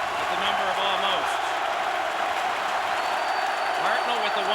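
A packed arena crowd at a Stanley Cup Final hockey game between the Blackhawks and Flyers roars and applauds continuously, with an announcer's voice talking over the loud, sustained cheering.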